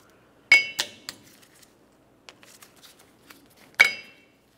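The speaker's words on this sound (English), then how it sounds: "We'll use some cutters and remove the cotter pin here." Cutters snip a cotter pin out of the axle nut on a 1994-2002 Dodge Ram 2500 front axle, giving two sharp metallic clicks at the start and one at the end, with faint clinks between in a quiet space.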